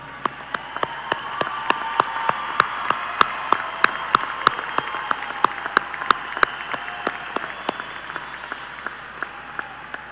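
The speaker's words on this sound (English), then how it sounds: "How about one more round of applause for all these graduates?" A round of applause for high school science academy graduates at a graduation ceremony, with many distinct sharp claps standing out over a steady crowd clatter, continuing evenly for about ten seconds.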